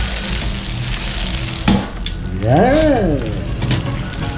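Hotdog frying in a pan makes a steady hiss and crackle. A brief clatter of utensils comes partway through, and a voice talks over the sizzle.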